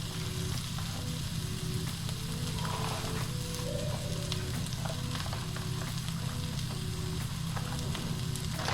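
Scallops and a seafood blend frying in oil in a pan, a steady dense sizzle with faint crackles running unbroken and close throughout.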